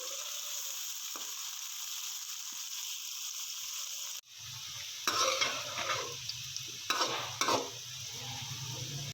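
Chopped radishes frying in oil in a wok: quiet hiss at first, then louder sizzling with scraping spatula strokes and clattering stirs after the halfway point, no voices.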